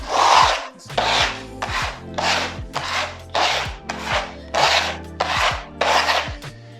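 Easy-fill filler sanded down by hand, giving about ten loud, close, regular back-and-forth rasping strokes with no talking.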